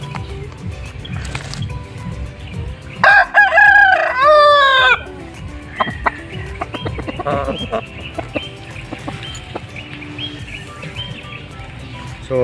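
A rooster crows loudly once up close amid scattered clucks and soft scratching from chickens nearby.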